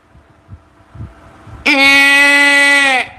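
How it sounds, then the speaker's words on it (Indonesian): After a few soft low thumps, a water buffalo in a wallow begins a loud, close call abruptly, a sustained bellowing moo-like cry holding for over a second before cutting off. "Kerbau di kubangan bersuara"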